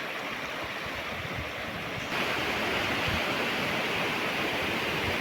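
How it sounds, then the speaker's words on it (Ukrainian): River flowing over rapids in the Carpathian mountains, a dense continuous rushing roar of water, close and loud, which swells slightly partway through. "Така біжить ріка."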